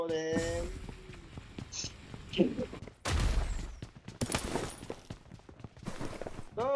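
Bursts of gunfire in the game BGMI crack out in quick volleys amid shuffling and other game effects, with no voices.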